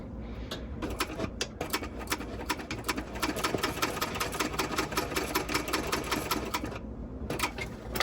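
A sewing machine runs a long basting stitch through bag fabric, stitching back and forth with rapid, steady mechanical clatter broken by short pauses at the start and end, close up with no voices.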